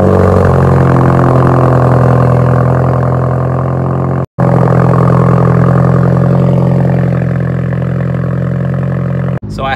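Turbocharged VW MK6 GLI with a turbo swap roaring at full throttle, a loud, sustained, close engine and exhaust drone that climbs steadily in pitch, briefly cut once midway, with no voices.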